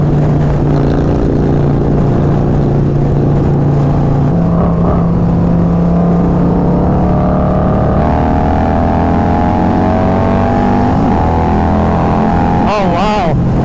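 A Harley-Davidson Low Rider ST or Stage 2 Road Glide motorcycle accelerates hard, its loud engine droning and climbing in pitch through the gears, close to the microphone, with a brief voice near the end.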